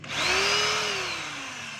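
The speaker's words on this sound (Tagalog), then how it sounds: "Lipat natin sa drill" A Stanley STDH7213 hammer drill switched to plain drill mode spins up with a loud, close motor whine that rises quickly, then holds steady and eases slightly lower as it keeps running alone.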